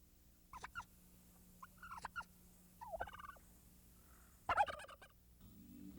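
Turkey on a farm at Tannehill Historical State Park, Alabama, gobbling in several short rattling bursts with pauses between, fairly near against a quiet background.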